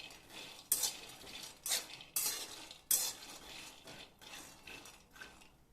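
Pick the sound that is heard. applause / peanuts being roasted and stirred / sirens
peanuts being roasted and stirred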